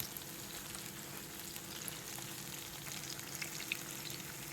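Kerala-style banana fritters frying in oil, heard as a soft, continuous, even sizzle with faint crackles, steady throughout with nothing else over it.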